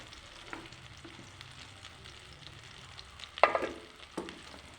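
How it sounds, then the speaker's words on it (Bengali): Battered chili chicken pieces coated in egg, cornflour and chili powder deep frying in a kadai: a faint, low bubbling sizzle with a couple of sharper clinks from a utensil near the end. "এবার ডিপ ফ্রাই করে নেব।"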